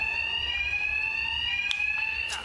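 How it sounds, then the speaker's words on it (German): A fire alarm rings in the video game Batman Arkham Knight, a loud, steady, continuous electronic tone holding without a break, with a couple of faint higher blips over it. "Meine Angriffe werden vom Alarm überdeckt."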